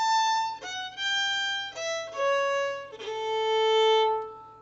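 A fiddle plays the opening of Pig Ankle Rag alone, with a long down-bow note alternating with a shorter up-bow note across five clear, sustained notes at moderate volume.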